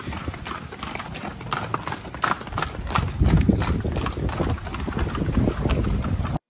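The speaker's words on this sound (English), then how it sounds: "Got the horses in the back." Horses trot nearby in the mountains at Baños, Ecuador, their hooves clip-clopping in a quick, steady rhythm under gusty wind noise on the microphone.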